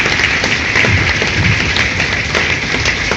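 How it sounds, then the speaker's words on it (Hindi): Audience at a network marketing association event claps steadily and densely, a continuous wash of applause with no pauses throughout. "आपकी तालियां कम नहीं होनी चाहिए"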